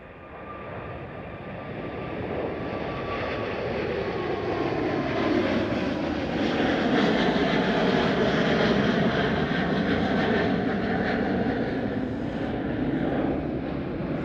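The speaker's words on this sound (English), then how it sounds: "KLM 777." A KLM Boeing 777 airliner at Amsterdam Schiphol gives a loud, sustained jet roar that swells and holds with a shifting whine as it passes nearby, no voices over it.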